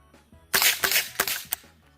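A Taurus TX22 .22 pistol firing high velocity rounds through a HUXWRX Flow 22 Ti suppressor, a few quick muted pops close by with mechanical clacks, no talking.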